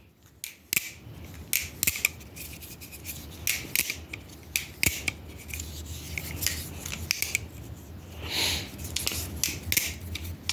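BRS Alt Select Replicant balisong trainer being flipped and handled, with quick metallic clicks, clacks and rubbing scrapes in an irregular rhythm, close and fairly quiet.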